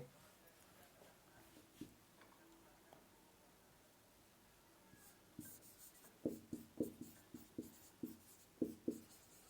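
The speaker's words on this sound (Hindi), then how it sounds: "नेक्स्ट लाइन में लिखेंगे" Chalk or marker writing on a board during a physics lesson on semiconductors, quiet scattered strokes that turn into a run of sharp rhythmic taps and scratches, close and faint.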